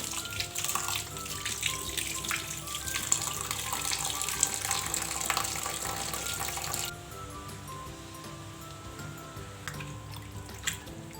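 Basa fish pieces are rinsed under a running kitchen tap, giving a continuous close splashing stream. After several seconds it drops to a softer trickle with occasional drips, and no one speaks.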